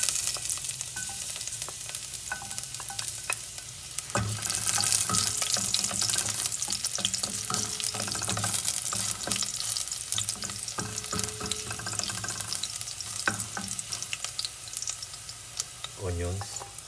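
Garlic frying in a pan while cooking pancit palabok, a steady loud sizzle with stirring scrapes throughout and no voices.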